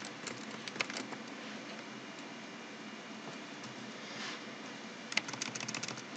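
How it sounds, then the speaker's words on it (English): Fingers tap on a computer keyboard in quick, uneven bursts of faint clicks, with a pause in the middle against a quiet room hiss. "my typing is terrible"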